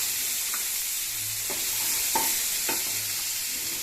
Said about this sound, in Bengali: তারপরে বিনস, কড়াইশুঁটি